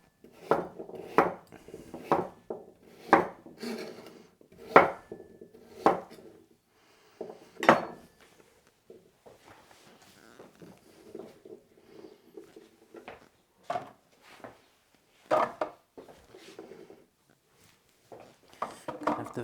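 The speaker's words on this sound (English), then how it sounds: "So I'm just going to roughly chop them." Carrots for soup and stock are roughly chopped with a knife on a board, a run of uneven sharp knocks that bunch together early and then thin out into sporadic taps, with quiet background.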